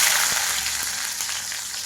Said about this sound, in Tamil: கடுகு நல்லா பொரிஞ்சதுக்கப்புறம் வெங்காயம் போட்டுக்கலாம்.